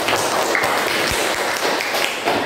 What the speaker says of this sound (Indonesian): Oke, bagus, tepuk tangan.